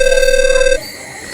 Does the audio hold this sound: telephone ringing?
yes